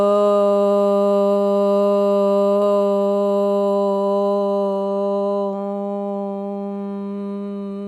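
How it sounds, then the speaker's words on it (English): A sustained, steady chanted Om closes a root chakra yoga practice, one long resonant voiced tone with strong harmonics that holds for several seconds and eases slightly softer toward the end. "close with the universal vibration of Om"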